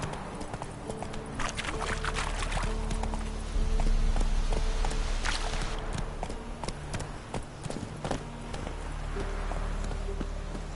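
Roach the horse's hooves clip-clop steadily along in The Witcher 3, a rhythmic trotting beat of hoof strikes, close and clear over faint ambient background, with no voices.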